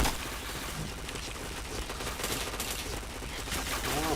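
Video game gunfire rattles in rapid automatic bursts, dense and continuous, with a busy mix of shots and effects filling the whole stretch.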